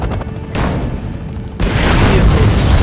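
A vehicle blows up in the real-time strategy game Act of War: Direct Action, a loud, sustained booming blast that swells partway through and rolls on with heavy low-end rumble, with game voices mixed in.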